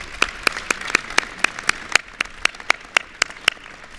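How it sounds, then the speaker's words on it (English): Applause at a First Lady and Dr. Biden Joining Forces anniversary event, with clear, evenly spaced claps standing out over a softer bed of clapping from the audience. "we need to give her another round of applause."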